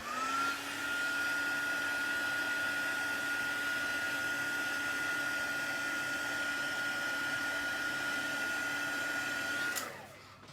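A handheld dryer blowing steadily on wet glue dots on a craft box, a continuous whirring hum with a tonal whine that runs for about ten seconds before cutting off.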